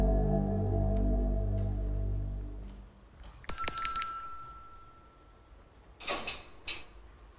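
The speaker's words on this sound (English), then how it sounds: "I ring a bell, and a piece of clockwork responds to the sound of the bell." A hand bell rings with a sharp metallic strike, after which a clockwork doll answers with a couple of faint mechanical bursts, following a low hum that fades out at the start.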